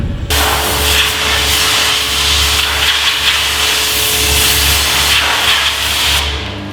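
A high-pressure hot steam cleaner blasts the chassis of a 40 Series Toyota Land Cruiser, a loud continuous roaring hiss with a low motor hum underneath, holding steady throughout before cutting off.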